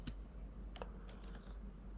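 A computer keyboard is typed on in light, sparse clicks, a handful of separate keystrokes over two seconds, quiet and close against a low steady hum.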